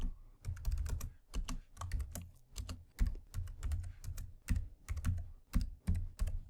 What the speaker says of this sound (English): We can also type out JS dist for our distribution folder.